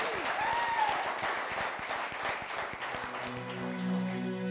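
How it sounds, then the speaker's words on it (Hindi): A TV talk show studio audience applauds steadily, dense clapping filling the room before fading as a sustained tone rises underneath. "आपकी भरपूर तालियां"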